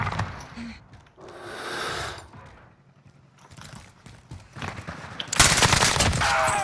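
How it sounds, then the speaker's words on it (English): Gunfire in Call of Duty Warzone on Rebirth Island, with bursts of automatic shots coming in at a player, growing loud and dense near the end. "Yo, I'm getting shot."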